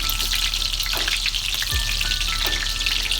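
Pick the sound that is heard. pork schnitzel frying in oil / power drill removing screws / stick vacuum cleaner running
pork schnitzel frying in oil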